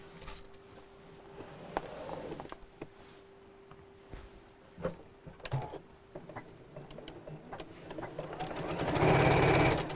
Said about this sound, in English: Right, now we'll sew across there.